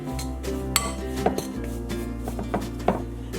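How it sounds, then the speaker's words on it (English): Mashing almond flour lumps into butter in a bowl for a keto cheesecake crust, with repeated clinks and scraping taps of a utensil against the bowl over a steady low hum, no talking. "I'm just going to mash the lumps to try to get it all mixed in with the butter."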